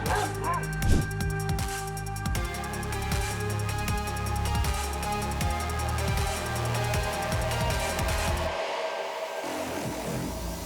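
A dog guarding a chicken coop barks and yips repeatedly, fairly close, with whimpers between barks over a steady background hum; a vehicle rumble is faintly present.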